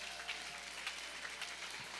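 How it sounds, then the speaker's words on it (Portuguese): Congregation applause in a church service: a faint, steady patter of many hands clapping, heard at a distance and without a clear ending. "Salve de palmas pro Wellington"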